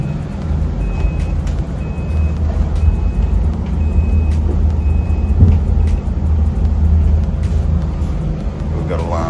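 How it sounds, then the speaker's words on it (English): Alarms beeping aboard an HH52 sailing catamaran at night on a passage to Singapore, including fridge and bilge alarms: a thin repeating electronic tone pulses steadily over a loud, constant engine-like rumble, with faint voices in the background. "Got alarms going, which seems to be a common theme, and fridge alarms as well, bilge alarms."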